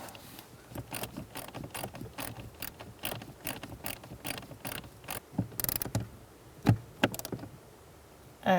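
A ratchet tightens a bolt on the HVAC blend door actuator of a 2002-2006 Honda CR-V, giving steady close clicking strokes that pause and resume.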